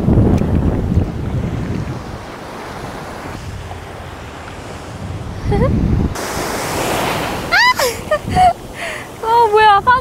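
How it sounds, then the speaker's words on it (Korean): Surf rushes and washes up the shore at Patong Beach, Phuket, Thailand, with wind buffeting the microphone, and voices exclaim over the water toward the end. "파도가 생각보다 셌어."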